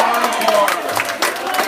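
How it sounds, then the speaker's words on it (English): Crowd cheering and applause at a virtual keynote, a loud, brief wash of clapping and voices close up. "I'm absolutely grateful for the applause. I love the applause."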